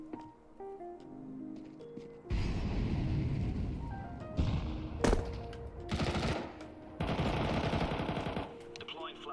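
Bursts of rapid automatic gunfire in a shooter video game come in several loud, close volleys separated by brief pauses, with tonal game sounds and occasional voices in between.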